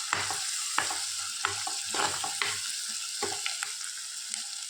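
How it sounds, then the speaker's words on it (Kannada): Sliced onions sizzle in hot oil in a pan while being stirred, a steady close frying hiss broken by several scraping strokes of the spoon. "ನೀರುಳ್ಳಿ ಇಷ್ಟು ಫ್ರೈ ಆದರೆ ಸಾಕು."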